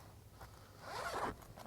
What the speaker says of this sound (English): also via zipper.